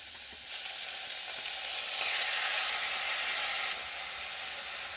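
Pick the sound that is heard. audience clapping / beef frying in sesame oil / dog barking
beef frying in sesame oil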